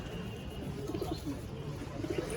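A female racing pigeon coos in a loft, giving soft, low, throaty coo phrases in short repeated bursts. The cooing sits over a steady, noisy background hum.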